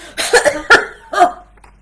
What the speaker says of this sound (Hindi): एक कोने से बड़ी जोर की खांसी आती है